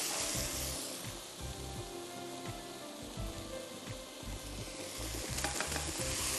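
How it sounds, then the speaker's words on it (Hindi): Onions and beef mince sautéing in a pan, a steady dense sizzle with busy stirring and scraping throughout, close and loud. "प्याज को भी अच्छी तरह सौटे होने दीजिए।"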